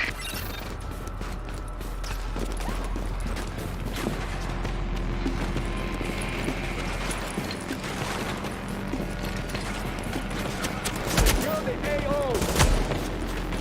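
Steady gunfire from a firefight in The Division, with bursts and single shots running continuously beneath mechanical clatter and occasional voices, sharper reports standing out near the end.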